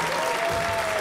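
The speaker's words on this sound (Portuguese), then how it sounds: "Aplausos pra Marcelo Duque, senhoras e senhores" A dense burst of audience clapping, steady and loud, many hands at once with no voices standing out.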